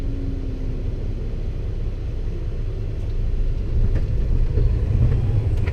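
A 13-speed truck diesel engine pulls away in first gear, a deep steady low rumble that swells louder toward the end, with faint mechanical clicks over it and no voices.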